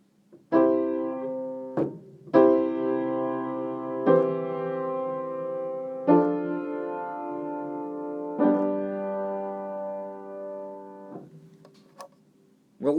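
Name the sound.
four-part SATB chords played, root doubled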